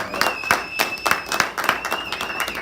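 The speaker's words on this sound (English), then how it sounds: "Bill Powers, give him a round of applause." A modest audience claps for Bill Powers at the close of an event, giving irregular, distinct claps from a fairly small crowd, with a steady whistle-like tone running underneath.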